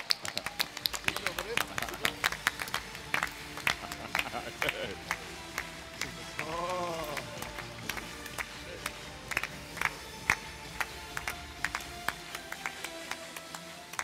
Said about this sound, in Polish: Zapraszam, wielkie brawa!